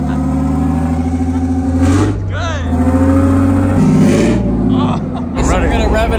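A heavy diesel engine on large equipment runs with a deep, steady rumble and rises in a few revs that swell and fall. People talk over it throughout.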